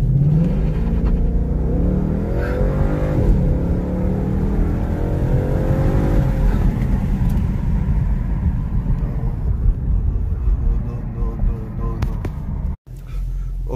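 A car accelerates hard from a standstill on a 0-60 run, its engine droning and rising loudly and steadily close by for several seconds before a sudden brief drop near the end.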